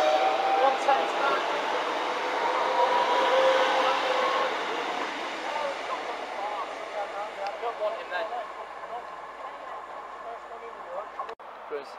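A train at Peterborough station rolls through with a broad, loud rumble that slowly fades and thins into faint rail clicks, and a voice talks over it.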